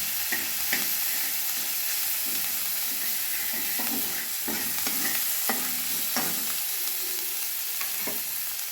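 Garlic paste stirred into onion paste frying in a pan, a steady close sizzle broken by repeated scraping strokes of a spoon at an uneven rhythm, with no talking.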